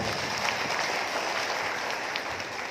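Posyandu health volunteers gathered at a district capacity-building event in Pemalang applaud together, a continuous, fairly even roar of many hands clapping throughout, with no voices over it.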